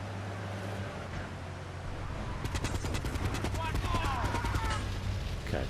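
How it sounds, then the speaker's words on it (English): Rapid Uzi bursts ring out during a drive-by in Grand Theft Auto III, a dense rattle of gunfire starting midway and continuing over a steady engine hum. "So that Uzi bullets were well spent."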